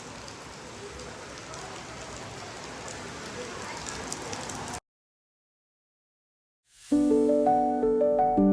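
Rain pours steadily at a temple beside a waterfall and stream, a dense, even hiss for about five seconds that stops suddenly, followed by silence and then music.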